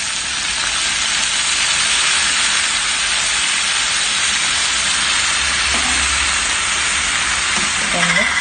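Chicken gizzard adobo frying hard in a pan while black pepper and soy sauce go in, a loud, steady, broadband sizzle that hisses throughout with faint stirring scrapes near the end.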